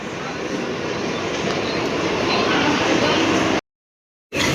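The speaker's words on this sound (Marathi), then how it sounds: "इथे 4 नंबरवर ट्रेन येणार आहे" A Churchgate-bound local train pulling into platform 4 at Andheri station, a loud continuous rumble and rattle of wheels and carriages, then an abrupt silence before the noise resumes.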